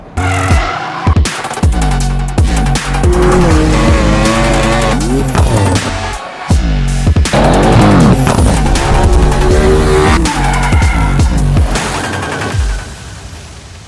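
A Porsche 911 Turbo S of the 991 generation, tuned to about 630 hp, is driven hard, its engine revving loudly and close with repeated tire squeals and skids across the run.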